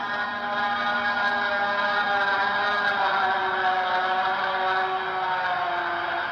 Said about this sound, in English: There's the harmonic sound you hear.